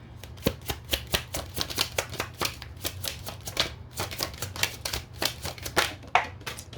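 Tarot cards being shuffled by hand: a close, rapid series of crisp slaps and riffles, dozens of sharp snaps in an uneven rhythm that continues throughout, with no talking.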